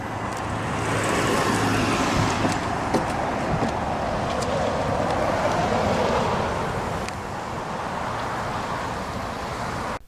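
A 2016 Lexus IS 200t F Sport idles steadily through its dual exhausts, a constant low, broad rumble recorded close up with slight wind noise and no talking.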